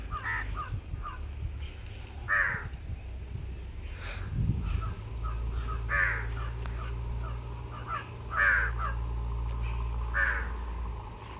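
Crows caw repeatedly in short harsh bursts, several calls spaced a second or two apart, over a low steady rumble of traffic near a bus.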